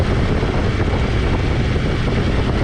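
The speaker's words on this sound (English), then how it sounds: "Under the hood, this engine sounds pretty good." A Saab 9-3 convertible engine runs under the open hood, a loud, steady broadband drone heard close up throughout with no talking.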